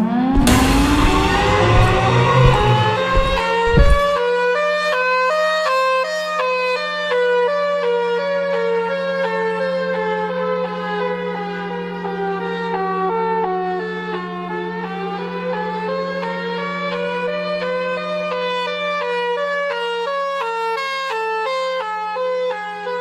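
The horror creature Siren Head sounds its siren in a video game, a loud continuous wailing tone that rises and falls in pitch over a steady hum, heard alone without talk.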